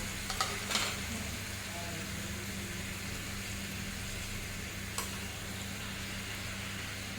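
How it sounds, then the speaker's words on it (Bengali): Pieces of hilsa fish fry in a pan with a constant, fairly soft sizzle, while a few brief scrapes of a spatula stir them near the start and again midway. "এবারে তুলে দেবো আমি ইলিশ মাছগুলো।"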